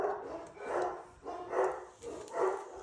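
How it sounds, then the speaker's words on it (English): Dogs bark at an unexpected delivery: about four loud barks in a steady, evenly spaced rhythm, heard from a short distance indoors with no talking. "My dogs are freaking out again."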